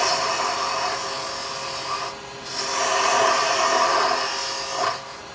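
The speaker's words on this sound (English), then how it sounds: "I'm going to come in and use the round. Start to get this body turned down a bit" A round carbide chisel scrapes a wooden Christmas angel body spinning on a lathe, giving a steady close raspy hiss that swells and eases as the cut deepens, with no talking.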